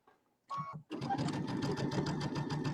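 A sewing machine makes a brief whirring start, stops, then runs into a steady close mechanical chatter of stitches that keeps an even rhythm to the end, with no speech.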